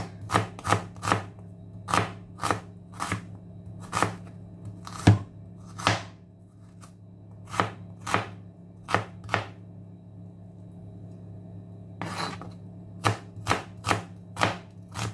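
Sharp knife chops onions on a cutting board for ginataang kalabasa at sitaw with shrimp, giving close, loud, crisp strikes in quick uneven bursts with short pauses, over a low steady hum.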